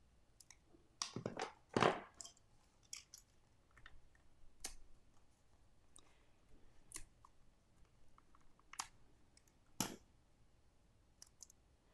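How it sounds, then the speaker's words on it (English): Snips trimming a foam dimensional on a handmade birthday card, heard as a handful of faint, crisp snipping clicks spread unevenly over several seconds in a quiet room. "So I'm going to grab some snips, and we'll just trim that down."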